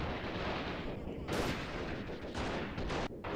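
Gunfire from Freeman: Guerrilla Warfare rolls on as a dense, distant battle din, with a few sharper cracks standing out from the constant rumble while a voice talks faintly underneath.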